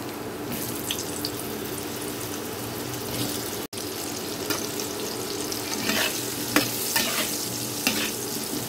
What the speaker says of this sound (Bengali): এখন আমি আলুগুলোকে একটু লাল লাল করে ভেজে নেব।